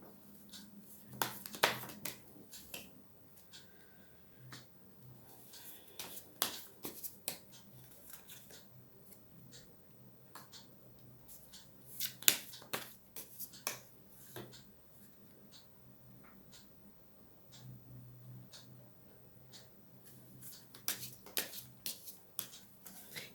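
Tarot cards are shuffled and pulled from a deck, making soft, scattered riffles, flicks and taps that come in quiet clusters with gaps between them, and nobody speaks.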